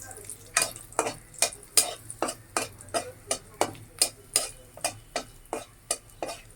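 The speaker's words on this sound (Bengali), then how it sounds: "এগুলো সবগুলি আমি এখন একটু ভাজবো" Whole spices, including cinnamon, small cardamom and panch phoron, fry in a pan for a pumpkin and egg dish, with steady regular scraping strokes of a stirring spoon over a soft sizzle, close and moderately loud.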